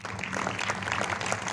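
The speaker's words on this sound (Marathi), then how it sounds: "जोरदार टाळ्या झाल्या पाहिजे सर्व गायक आणि वादक कलावंतांसाठी" Audience applause at a Vinsan Graphics event honouring singers and instrumentalists at Kala Academy, Goa, heard as a steady, dense wash of clapping that holds at even loudness from start to end.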